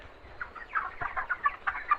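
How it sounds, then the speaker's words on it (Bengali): Broiler chickens about 33 days old on a poultry farm, a cluster of close, repeated clucks and short calls overlapping in uneven bursts, with no talking. "তো এই দেখছো মুরগি,"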